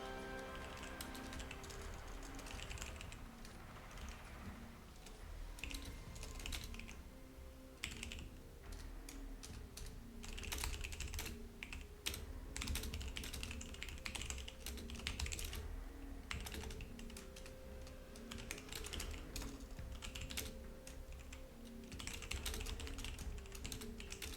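Rapid, furious clacking of a computer keyboard, dense bursts of keystrokes going on continuously and fairly close, with no voices over it.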